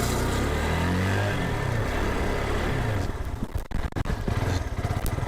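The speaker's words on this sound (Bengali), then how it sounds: "আপনাদের দেখা দিই বাইক চালিয়ে দেখা দিই আসলে কন্ডিশনটা কিরকম।" A used mini sports motorcycle runs close by, its engine a loud continuous drone that shifts and turns choppy partway through as the rider moves off, with no talk over it.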